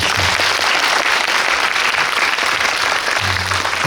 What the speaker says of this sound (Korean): 큰 박수 한번 부탁드립니다.